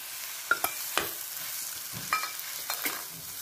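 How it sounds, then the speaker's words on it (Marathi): Cooked dal stirred into roasting masala for methi amti, a few sharp spoon scrapes and clinks over a soft, steady sizzle, close and alone. "आणि डाळ पण त्या मसाल्यामध्ये 1 सेकंड भाजून घेऊया।"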